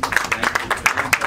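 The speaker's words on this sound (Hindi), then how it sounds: "तालियां" Audience applause at a Bhojpuri film trailer launch event, dense steady clapping from many hands close and loud throughout, with faint voices underneath.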